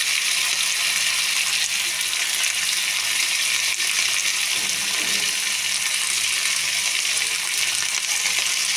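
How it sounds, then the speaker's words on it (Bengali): Vegetables fry in a hot pan with a steady, dense sizzle that stays loud and even throughout, with a faint stir or shift partway through. "দিয়ে ভালো করে ভেজে নেব।"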